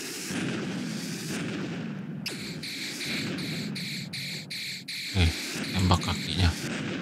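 Bazooka shots in a Roblox game, a few dull low thumps near the end over a steady game backdrop of insect-like chirping and a pulsing electronic tone.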